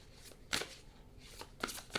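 A deck of tarot cards is shuffled close up in short riffling bursts, three or four quick crisp flurries separated by brief quiet gaps, with no talking over them.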